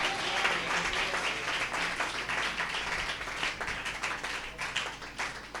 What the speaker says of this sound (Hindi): आशु के लिए जोरदार ताली बजाकर परमेश्वर का धन्यवाद करें।